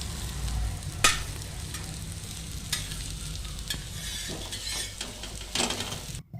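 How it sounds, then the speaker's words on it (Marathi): Kothimbir vadi, coriander and gram-flour fritters, shallow-frying in a pan over medium-low heat, with a steady soft sizzle broken by a few sharp clinks and scrapes of a utensil, no talk. "मध्यम ते कमी गॅसवर आपल्याला या वड्या भाजून घ्यायच्यात चांगल्या बघा आता आपल्या वड्या पण भाजतात"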